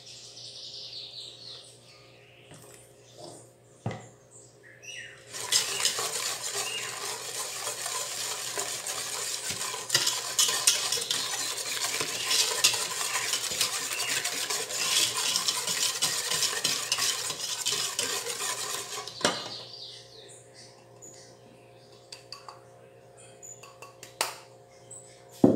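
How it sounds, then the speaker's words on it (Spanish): Venezuelan bread cake batter of flour and milk beaten steadily in a bowl, a loud, continuous whisking swish that starts after a few seconds, runs for about fifteen seconds, then stops, with faint chirps in the quiet background. "Seguimos batiendo."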